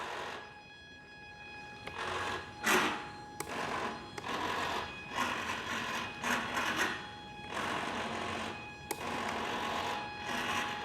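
Servos on a Hangar 9 Ultra Stick 60-inch RC plane driving the flaps and ailerons, a series of short whirring buzzes in bursts of varying length separated by brief pauses, close and fairly quiet.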